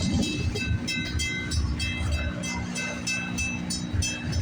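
A long CN freight train rolls slowly past a road crossing at Pefferlaw, with a close, steady rumble and regular metallic clicks and squeals from the wheels passing over rail joints.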